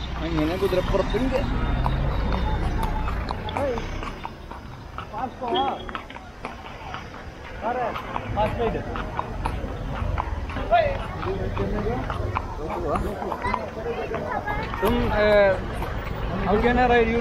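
A horse walks with a rider at Srirangapatna near Mysore, its hooves clip-clopping in a steady rhythm at moderate distance. Several people talk over it throughout.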